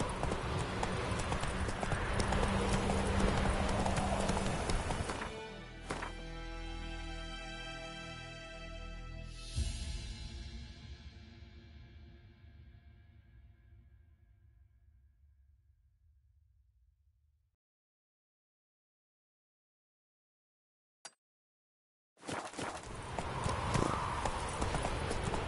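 Hooves of a galloping horse in a video game pound rapidly and loudly, then slow and fade into silence before a burst of noise returns near the end.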